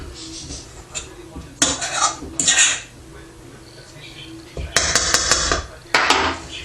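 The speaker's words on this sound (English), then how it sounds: "when it gets to be too thick to mix with the fork, just scrape what you got left off the fork" A fork scrapes and clinks against a bowl while mixing thick Zopf bread dough, irregular bursts of metallic scraping and knocking separated by quieter pauses, close by and fairly loud.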